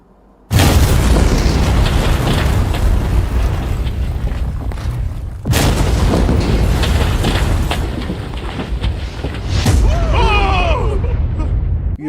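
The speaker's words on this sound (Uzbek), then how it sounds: "juda katta portlash sodir bo'ldi" A huge explosion bursts suddenly from near silence into a loud, sustained roar. A second blast follows midway, and the rumble slowly decays. Voices call out faintly near the end.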